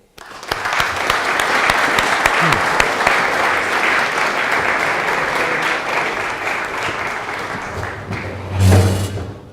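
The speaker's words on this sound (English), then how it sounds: "please join me in giving the speakers a hand of applause" Seminar audience applauds the speakers on security in Northern Europe, a steady loud wash of many hands clapping for most of the clip, tapering slightly before a brief thump near the end.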